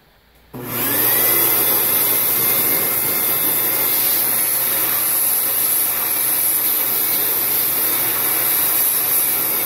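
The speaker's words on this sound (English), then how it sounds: "Let me jam that vacuum down in there again." A shop vacuum roars steadily, kicking on abruptly and running continuously at close range as it sucks debris out of an injector bore on a 7.3 diesel engine.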